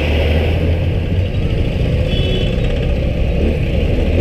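Vehicle engines idle and rumble in a road traffic jam caused by a tractor in Ranchi, Jharkhand, a loud, continuous close drone with no clear pauses.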